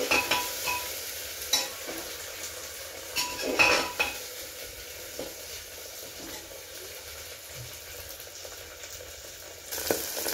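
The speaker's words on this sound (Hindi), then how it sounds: "अब इसमें मैं सारे मटर को ऐड करूंगी। और मटर को भी साथ में फ्राई करूंगी।" Peas fry in a pan for veg biryani, a soft sizzle under repeated spatula scrapes and clinks of metal on the pan, with a few louder stirring knocks; no talking.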